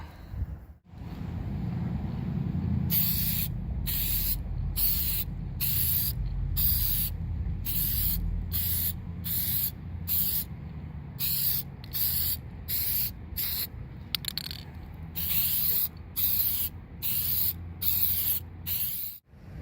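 Aerosol can spraying Hyperdip coating onto car rims outdoors: a long steady hiss broken into short bursts with brief gaps, close to the microphone over low wind rumble.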